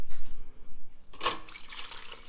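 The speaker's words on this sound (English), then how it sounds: "It just pours right through your tincture, very satisfying." Tincture liquid pouring through a cloth press liner, a brief splashy burst followed by a steady trickling flow, fairly close and alone.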